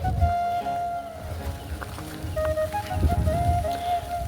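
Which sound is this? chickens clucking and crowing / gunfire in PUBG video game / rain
rain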